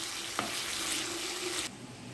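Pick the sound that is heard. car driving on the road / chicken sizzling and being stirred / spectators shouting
chicken sizzling and being stirred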